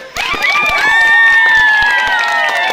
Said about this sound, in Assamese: চবে এবাৰ ডাঙৰকৈ হাত চাপৰি হ'ব লাগে